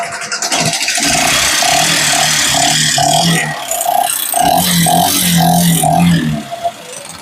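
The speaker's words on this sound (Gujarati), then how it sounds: "આ સાઇન ની અંદર એન્જિનમાં અવાજ આવે છે" A faulty Shine motorcycle engine runs loudly up close with a regular knocking pulse about twice a second, dipping briefly before the rhythmic clatter resumes.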